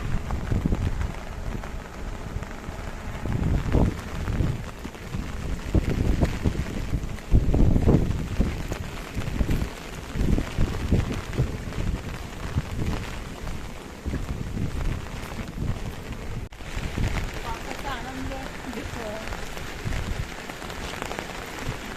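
Heavy monsoon rain pounds surfaces in the Konkan countryside, a dense steady roar with gusts of wind buffeting the microphone and swelling in waves throughout.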